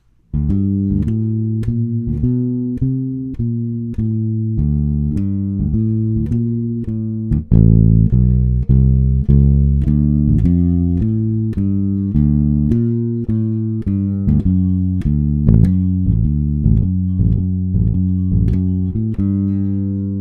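A plucked bass guitar plays a steady jazz walking line, one note per beat, with sustained low tones and occasional chordal accents, loud and close with no talking.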